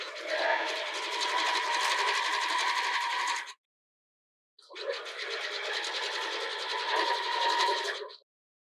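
A sewing machine stitches fold-over elastic onto a sports bra in two close, steady bursts of rapid needle chatter with a short pause between them.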